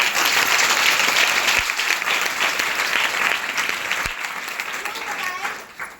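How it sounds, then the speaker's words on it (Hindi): An audience at a talk gives hearty applause, full and close at first, then slowly thinning out toward the end. "एक जोरदार ताली आपको।"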